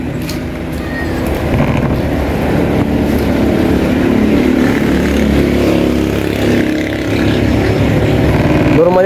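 A clothes dryer motor runs with a loud, steady humming drone and mechanical rumble, holding fairly constant with a slight dip near the end.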